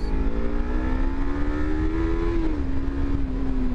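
A Kawasaki Z300 motorcycle engine pulls hard through an overtake, a loud steady drone rising in pitch and then briefly easing as it shifts, heard up close from the rider's position under wind noise.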